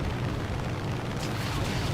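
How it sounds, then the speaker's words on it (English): A dense, loud rumbling blast from a bomb explosion in the War Thunder combat flight game tears at an F8F-1 aircraft's wings, a sustained roaring boom with no voices. "I didn't have the right kind of bomb delay on my bombs, and they blew my wings off"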